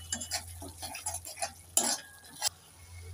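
A spoon stirs spices and sugar in a pan for a maan kochu and prawn curry, giving quiet, close, rhythmic scrapes and clinks with light sizzling underneath.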